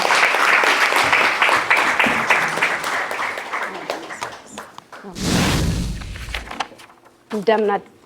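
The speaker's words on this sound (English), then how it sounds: "Please give us a warm round of applause" Audience applause at a charity event welcoming a speaker to the stage, a dense clapping wash that fades out, followed by handling thumps and a brief voice.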